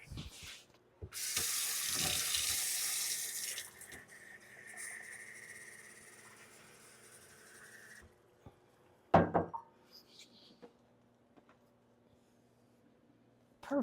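A kitchen tap runs for about seven seconds as water is measured for pickled-beet brine, a steady close hiss that stops abruptly, followed by a few clunks of a cup or jug being handled.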